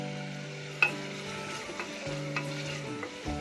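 Whole spices for biryani (cardamom, cinnamon, cloves, peppercorns) are stirred and fried in a pan, giving a quiet steady sizzle punctuated by a few sharp utensil clicks and scrapes.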